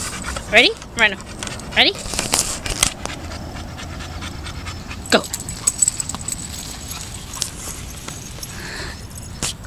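A dog pants and whimpers while romping around, with sharp breathy bursts and scrabbling near the start and scattered thumps later, as a person speaks briefly to it.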